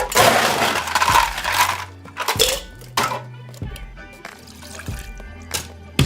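A gin cocktail made with Bombay Sapphire, passion fruit and elderflower being stirred with ice, giving repeated clinks and rattles of cubes against glass and a liquid swirl, loud and close, with a voice speaking briefly.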